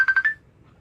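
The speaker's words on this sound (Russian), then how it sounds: "Да, ему звонят, Ика." A mobile phone rings during an outdoor interview, giving three quick electronic tones in a row at moderate volume before cutting to near silence.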